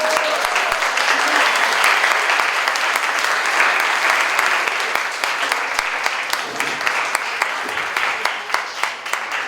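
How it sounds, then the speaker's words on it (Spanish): An audience at a medical lecture on the brain and heart breaks into loud, sustained applause, dense and even at first, then tapering slightly toward the end. "Oigan, por favor, le damos un muy fuerte aplauso."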